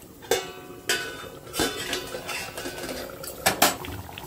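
A metal lid is lifted off a cooking pot of boiling chicken, giving several sharp clanks and clatters close by, with a soft bubbling background between them.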